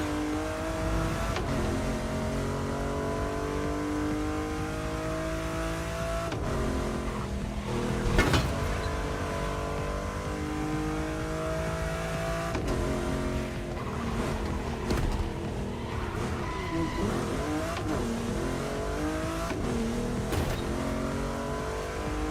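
An upgraded Aston Martin rated over 700 drives in The Crew Motorfest, its engine revving steadily and climbing through gear changes in a continuous, close, loud drone with no talking.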